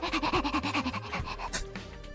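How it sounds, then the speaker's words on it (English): A dog pants in a video game, a quick run of rhythmic breathy huffs up close, then a short whimpering tail as the panting fades. "The doggy sounds"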